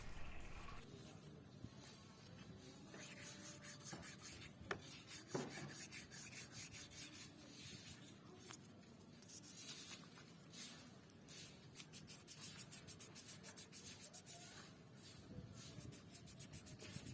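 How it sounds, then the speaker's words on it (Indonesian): Sandpaper rubs back and forth on the tip of a car oxygen sensor, quiet close scratchy strokes in irregular bursts with small clicks, no talking. "Jangan lupa juga pada ujungnya juga diamplas juga ya"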